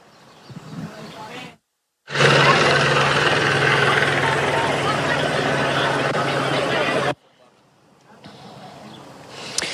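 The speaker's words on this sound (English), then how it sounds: "A helicopter overhead" A helicopter flies overhead at a street scene where people had gathered for a candlelit vigil on Grape Street, its loud, steady rotor roar holding for about five seconds between quieter stretches of outdoor ambience.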